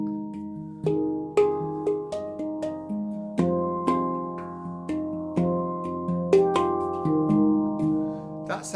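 Handpan struck in chords, a slow sequence of ringing metallic tones, each strike blooming and decaying before the next, about a dozen hits, clear and close.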